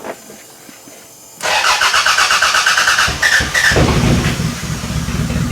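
After a quiet moment, a demolition derby car engine with a switch box panel cranks and roars to life, then settles into a loud, rough idle with a couple of brief revs.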